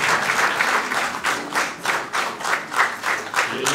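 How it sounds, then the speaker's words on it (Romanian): Audience applause at a Christmas carol concert held by a parish in Imola, a sustained wash of many hands clapping with pulsing swells, fairly loud and close, with no talking over it. "vă rog să-i aplaudați"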